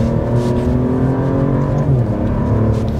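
An Alfa Romeo Giulia Quadrifoglio with 540 hp accelerates gently on light throttle, its engine a loud, steady, rising drone heard close from inside the car, with no talking.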